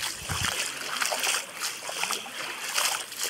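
Water splashes and churns around people wading across a river on the way to a waterfall in Laurel, Batangas, a steady broadband rush with irregular louder surges, close by and continuous.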